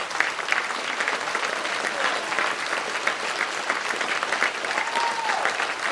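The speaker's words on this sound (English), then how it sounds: "Let's give these guys a round of applause for supporting Tony Middleton." A crowd gives sustained, even applause to former football teammates standing at a Triton Hall of Fame induction, a dense wash of clapping filling the room without a break.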